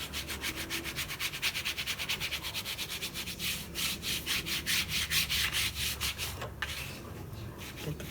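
Glued-down journal pages rubbed with a burnishing tool, a rapid series of rhythmic scraping strokes close up, steady back-and-forth rubbing with brief pauses and no talking.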